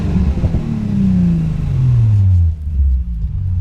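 A Nissan 350Z engine revs up then gradually winds down in a loud, close, steady rumble, with the pitch falling over a few seconds, following camshaft sensor work.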